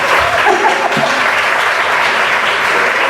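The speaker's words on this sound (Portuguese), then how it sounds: "Aplauda!" Loud, dense applause from an audience at a talk on women entrepreneurs, steady sustained clapping with no pauses.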